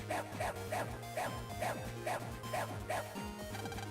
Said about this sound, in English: That's a loud-ass dog.